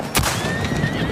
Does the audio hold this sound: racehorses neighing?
yes